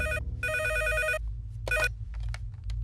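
A telephone rings in two harmonic bursts with a short gap between them, then a third burst starts and cuts off, over a low steady hum.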